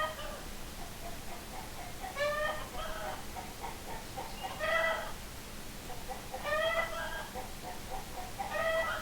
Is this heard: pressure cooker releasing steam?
no